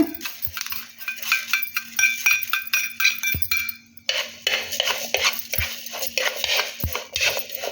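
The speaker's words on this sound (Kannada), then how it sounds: "ಈಗ ಬಿಳಿ ಎಳ್ಳು ತೊಗೊಂಡಿದ್ದೇನೆ ಇದನ್ನು ಸ್ವಲ್ಪ ಲೈಟಾಗಿ ಫ್ರೈ ಮಾಡಿಕೊಳ್ಳುವ" White sesame seeds being lightly roasted and stirred in a pan, with close clinks and scrapes of a utensil against metal, a few sharp knocks, and a soft rattle of seeds.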